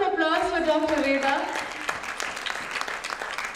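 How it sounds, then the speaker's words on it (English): Audience applause at a hospital launch event for Dr. Veda, a dense wash of clapping that fills the room, with a speaking voice over the first second and a half. "Let's have a round of applause for Dr. Veda."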